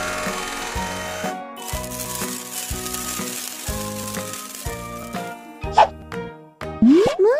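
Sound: filling a sandbox with sand in a kids' video game

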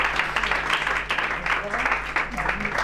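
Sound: applause

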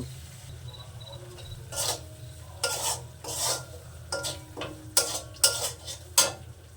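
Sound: spice paste with turmeric being sautéed and stirred

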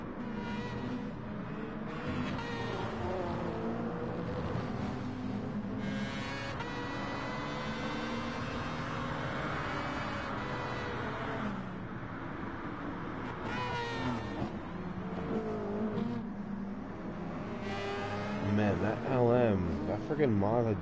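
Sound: race car engine revving in Gran Turismo Sport video game

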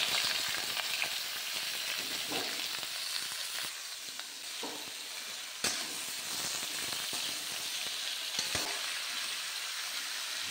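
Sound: frying onion, chilli, garlic and ginger masala

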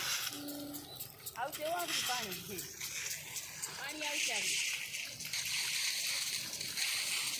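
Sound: garden sprinklers spraying water after pump restarted

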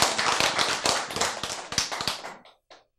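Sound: audience clapping

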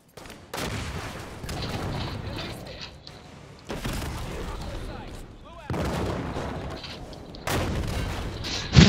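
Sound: gunfire in the video game Halo 5

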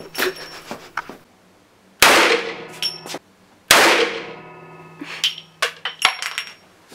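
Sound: Desert Eagle shell casings ricocheting off booth roof

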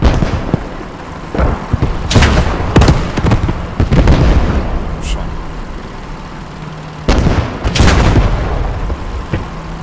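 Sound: 8.8 cm Flak 36 gun firing in video game Post Scriptum

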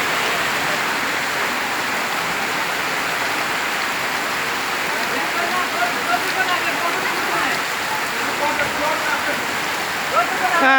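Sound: heavy village downpour rain

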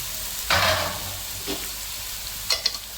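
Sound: stirring ridge gourd pieces frying with onions and green chillies

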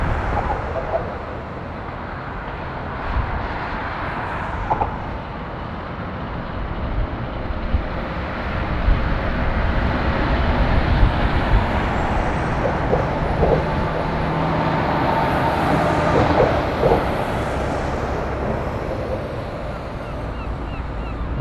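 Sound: lorries driving out of Dover docks after unloading

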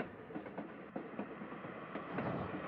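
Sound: train in Little Witch in the Woods video game

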